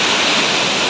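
Water falls beside a mountain road in Arunachal Pradesh, making a steady, loud, broadband rush that holds an even level with no pauses and no voices.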